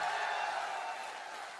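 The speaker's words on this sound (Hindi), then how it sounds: "ये तालियां काफी नहीं है," An audience at a SafeShop motivational speech claps together in a broad, even patter of many hands that fades slightly toward the end, quiet and somewhat distant.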